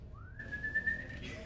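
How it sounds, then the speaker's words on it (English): A person whistles one clear tone that glides upward, then holds a steady pitch with slight wavering for about a second. It is fairly close and alone, with no speech. "Stop whistling in there!"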